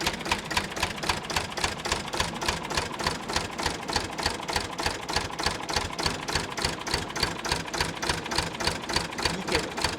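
An old tractor engine running at idle, with a fast, even, loud chugging rhythm of regular beats that holds steady and close throughout.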